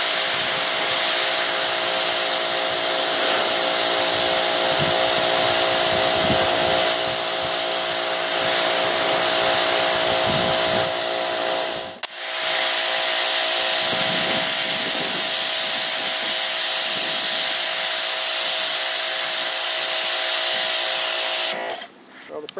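A pressure washer fitted with a surface cleaner attachment gives a loud, steady high-pitched spraying hiss with an engine drone underneath, briefly cutting out midway and stopping near the end.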